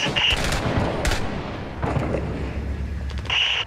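Gunfire in the video game Six Days in Fallujah during a convoy mission: dense, continuous bursts of shots and crackling battle noise fill the scene, with sharper cracks near the start and end.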